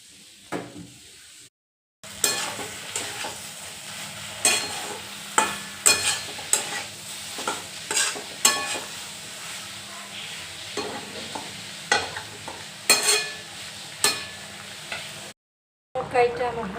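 Curry sizzles gently in a pan while a spoon scrapes and stirs it in repeated sharp strokes, fairly faint and close, with short gaps at the start and end.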